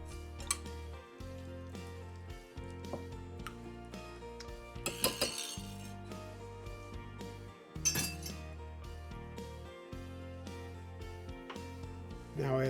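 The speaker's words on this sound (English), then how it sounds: "Then whisk the mixture together." A whisk works milk and wet ingredients together in a bowl for quick whole wheat bread, giving steady, rhythmic clinks and rattles against the bowl, with a few louder clatters partway through.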